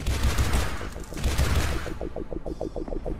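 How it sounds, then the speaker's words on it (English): Rapid automatic pistol fire in a first-person shooter game: dense, loud shots at first, then a quicker run of evenly spaced, lighter pops fading toward the end, with no talk. "So we're gonna have some proper first-person shooting stuff."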